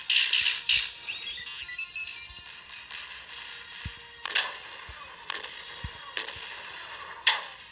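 Shots fired in the Star Wars X-Wing video game come as sharp, crackling bursts: a dense volley at the start, then scattered single pops spaced through the rest, with quieter game ambience between them.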